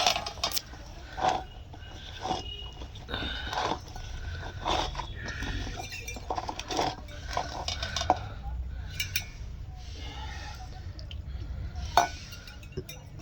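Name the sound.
stirring cauliflower chilli masala in a pan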